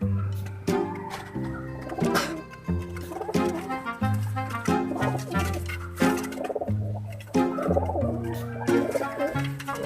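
Several pigeons coo and gobble up close in a loft, low repeated throaty calls overlapping one another in a steady rhythm, with no talk over them.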